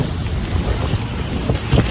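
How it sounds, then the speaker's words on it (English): Strong wind in the Bahamas buffets the microphone with a constant roaring rush, broken by a few heavier gusts and thumps. "It's too windy."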